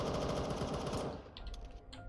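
An M4 rifle fires in VRChat as a rapid automatic burst of shots for about a second, then cuts off, leaving a few faint clicks.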